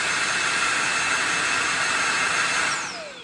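Compact cordless car vacuum running at its highest suction setting, a loud steady high-pitched whine and rush of air held close, then winding down at the end.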